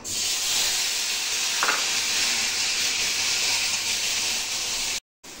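Cumin, green chili, tomato and onion-garlic paste frying in hot oil in a kadai, producing a loud, steady, close sizzling hiss that holds evenly throughout before cutting off briefly near the end.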